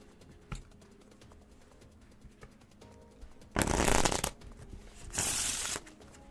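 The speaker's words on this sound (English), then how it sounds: "Get these in a shuffle in between each other." Playing cards are shuffled together in two quick riffles, each a dense burst under a second long, following soft scattered handling clicks, at close range and with no talking.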